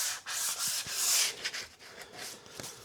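Hand sanding across a guitar body's finish to flatten raised nibs, a close, steady series of dry abrasive strokes in a fairly even back-and-forth rhythm, heard alone with no talking.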